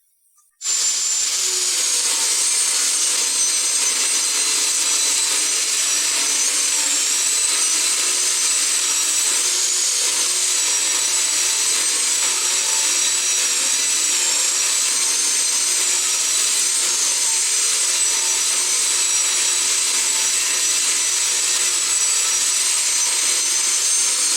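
A power saw rips a reclaimed wood board lengthwise into narrow pieces, making a loud, continuous hissing roar that starts abruptly and holds steady, close up, with no talking.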